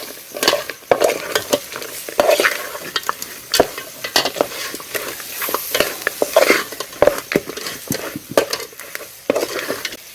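Crabs sizzle and crackle in a hot pan over a wood-fired stove, with repeated scraping stirs and utensil clinks throughout. No voices.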